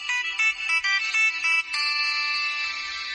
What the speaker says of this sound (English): You can set the ringtones